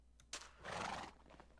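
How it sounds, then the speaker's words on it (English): Minecraft horse neighing, a single short whinny, close and fairly loud, preceded by a couple of soft clicks. "I can't even get on my horse."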